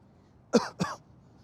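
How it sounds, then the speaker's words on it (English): Two short, sharp coughs in quick succession, close and fairly loud, then quiet. "The cough, man."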